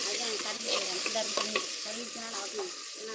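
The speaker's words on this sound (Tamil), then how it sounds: "கறி பேரான மசாலா போடுங்க தக்காளி வதங்கட்டும்" Tomatoes with masala sauté loudly in a frying pan, a steady sizzle with a spoon stirring and scraping through it.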